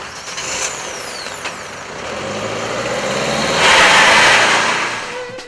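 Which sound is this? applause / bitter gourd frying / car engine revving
car engine revving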